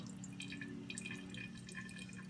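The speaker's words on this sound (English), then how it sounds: "So now we're going to separate the glycerol from the biodiesel by poking a hole and putting it in the beaker." Glycerol drips from a punctured biodiesel container into a beaker in a steady trickle of small, close liquid drips over a low background hum.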